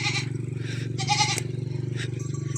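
A goat bleats in repeated wavering calls outdoors in rural Thailand, heard close over a steady low motor drone, with short gaps between cries.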